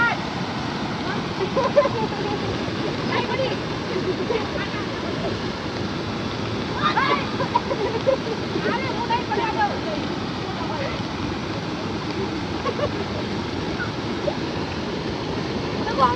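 Floodwater rushes steadily after a full day of nonstop heavy rain has burst a pond, a broad continuous roar heard up close, with voices speaking over it now and then.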